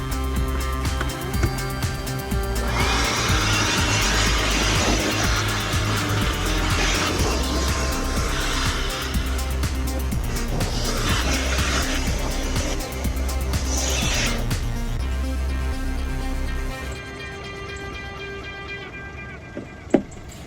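A Peugeot 107 city car, revived after sitting for a year, drives up a garden with its small engine running and revving close by in a steady drone, then the engine note drops away toward the end.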